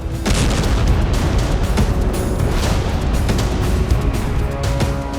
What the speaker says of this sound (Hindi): यूक्रेन ने कर्च स्ट्रेट में विस्फोट किया है